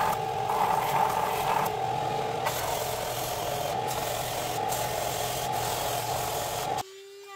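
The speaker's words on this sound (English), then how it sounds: "this is 220 grit sanding drum, and all I'm doing is, after the belt sander, I am cleaning up the edges" A steady, continuous abrasive whir of a 220-grit sanding drum smoothing the edges of a carbon-fiber-wrapped pistol holster, running evenly for several seconds before cutting off abruptly.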